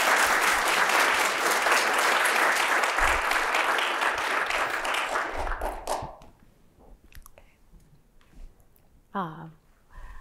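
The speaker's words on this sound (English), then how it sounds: "let's have a round of applause for our panelists" Loud, dense audience applause for a forum's panelists fills the first six seconds, then tapers off into scattered claps and faint room noise.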